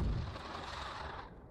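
A booming blast from Minecraft's Star Wars Remnant Knights map lands loud and close, then fades into a rumbling, crackling decay over about a second and a half, with no voices.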